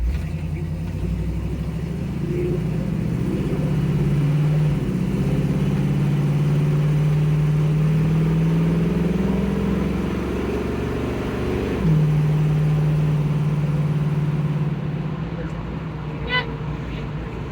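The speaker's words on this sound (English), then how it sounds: "Definitely wind noise." Wind noise roars steadily inside a car moving along with its windows up and worn weather stripping, a low continuous rumble with engine hum that lasts throughout while someone talks.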